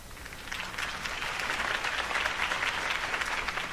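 A crowd in a video game applauds steadily, a dense wash of clapping hands filling the whole stretch without a break.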